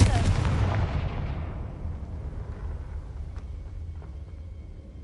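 A Confringo blasting spell in the Hogwarts Legacy video game goes off as a loud, booming explosion that fades into a long, low rumbling tail over several seconds.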